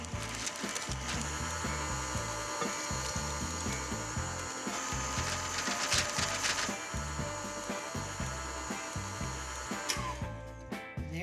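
A stand mixer churns vanilla cupcake batter on low speed, a steady mechanical whir with a busy rattling texture running continuously and fairly loud, with no talking.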